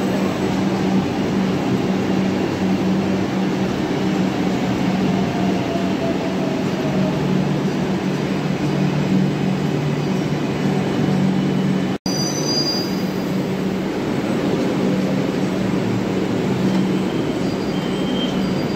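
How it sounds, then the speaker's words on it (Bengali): A Kolkata Metro Blue Line train pulls into elevated Noapara station, its loud steady rumble mixed with sustained wheel squeal, nearby and continuous for the whole stretch apart from one very brief break midway. "দেখতে দেখতে আমাদের ব্লু লাইনের ট্রেনও চলে এলো।"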